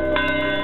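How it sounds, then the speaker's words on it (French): The old church bell of the Branham Tabernacle rings out with a loud, sustained metallic tone full of ringing overtones, a fresh strike landing within a long, steady resonance, with no voices. "la même cloche qui sonna ce certain dimanche matin il y a 71 ans, appelant les croyants à venir assister au service, sonne toujours fidèlement actuellement"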